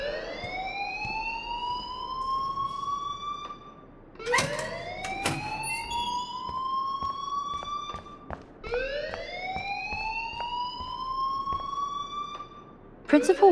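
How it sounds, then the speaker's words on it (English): An electronic alarm in the Life is Strange video game wails in rising, siren-like sweeps that repeat about every four seconds, loud and continuous with brief breaks between cycles. "please turn off that alarm since that's your job"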